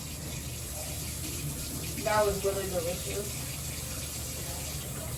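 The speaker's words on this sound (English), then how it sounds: "I'm gonna wash my hands off" Water runs steadily from a tap at a sink while hands are washed, a continuous close hiss with a brief splashing burst midway as a voice speaks.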